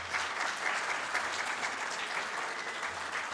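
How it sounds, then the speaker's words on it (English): Sustained applause from an audience at an athletics hall of fame and alumni awards ceremony, steady dense clapping filling the room without a break, no talking over it. "Give yourselves a round of applause"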